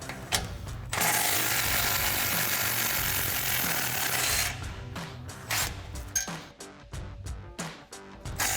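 A 14 mm socket on a ratchet works exhaust bolts on a Toyota Tundra, with a burst of continuous rapid clicking followed by a series of separate short ratchet clicks and knocks, close and clear.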